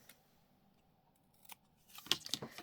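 Scissors trimming paper for a handmade file folder. A faint, quiet stretch leads into a few crisp close-up snips and paper crunches near the end.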